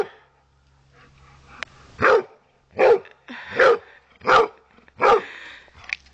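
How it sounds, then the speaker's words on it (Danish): A dog barks five times in a steady rhythm, each bark loud and close with clear pauses between them, while a few faint voices murmur in the background. "Hvad siger den farlige hund?"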